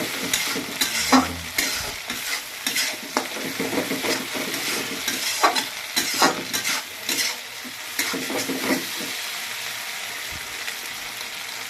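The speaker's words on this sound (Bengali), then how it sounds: "এরপর হালকা করে নেড়ে দিই।" Spices are stirred in a frying pan, with a lively sizzle under repeated scraping and clattering strokes of a utensil, close and fairly loud.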